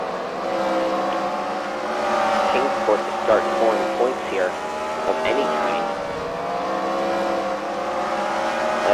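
Race car engines drone and rev at a CWRL Fight Night event at The Freedom Factory, producing a sustained mechanical hum that rises and falls while a commentator talks continuously over it.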